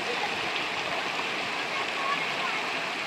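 Water rushing down a waterfall water slide outdoors: a continuous, full hiss of flowing water at steady volume, with no clear breaks or separate splashes.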